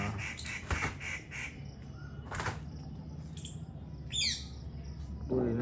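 Myna birds call from a small wooded patch behind a building in Agra, giving a few brief, sharp chirps over steady outdoor background noise, with faint voices nearby.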